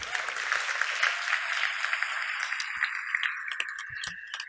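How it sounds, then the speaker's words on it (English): An audience at a game awards show gives dense, sustained applause, with sharp individual claps standing out from a bright wash that gradually thins toward the end. "please put your hands together for Anne Sigismund, who has created the category screens for this year's show"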